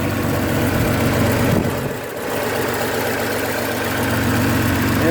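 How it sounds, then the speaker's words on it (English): A 1979 Datsun 280ZX engine idles steadily, a loud, continuous low mechanical drone with a brief dip in the middle and no talking. "of the engine running before I started taking the car apart"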